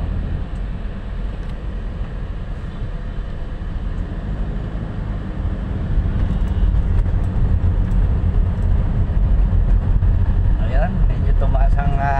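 Heavy stop-and-go traffic on EDSA, heard from inside a vehicle as a steady low rumble of engines and road noise that swells slightly partway through, with faint talking underneath.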